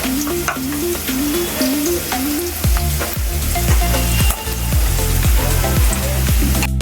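Ginger garlic paste sizzling loudly in hot oil in a pan for chicken curry, a steady close frying crackle with spatula scrapes and stirring clunks throughout.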